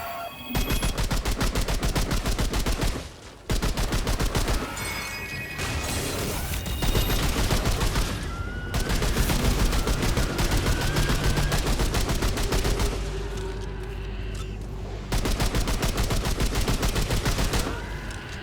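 The basic handler gun firing in Remnant 2 on Nightmare difficulty, rapid sustained automatic bursts, loud and close, with only brief pauses between long strings of shots.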